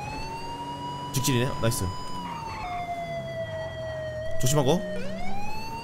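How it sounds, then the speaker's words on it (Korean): A police car siren wails in GTA V on a Korean DN8 Sonata patrol car during a high-speed chase, a loud continuous electronic tone sweeping and shifting pitch with engine noise beneath, while someone talks briefly over it. "왜냐면 아무리 사이렌 키고 정황등을 켜도"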